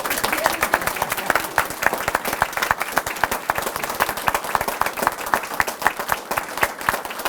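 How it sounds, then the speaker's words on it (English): A crowd at an outdoor Memorial Day ceremony claps loudly and steadily, with individual sharp claps standing out and faint voices mixed in beneath the applause. "How about a big round of applause for Mama?"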